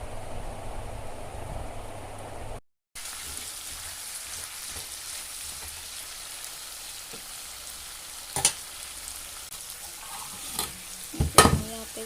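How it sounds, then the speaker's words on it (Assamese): Potatoes frying in a pan, with a steady soft sizzle throughout and a few sharp clinks and scrapes of stirring near the end. "মই ভালদৰে ভাজি লৈছোঁ। এবাৰ মই ইয়াতে আলু দি দিছোঁ।"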